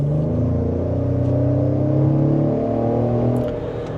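A 2025 Ford Explorer ST Line three-row SUV accelerates hard in sport mode, its engine droning loud and steady with rising harmonic tones over road rumble, easing slightly near the end.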